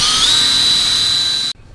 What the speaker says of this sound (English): So that's drilling the hole to run the power cable through.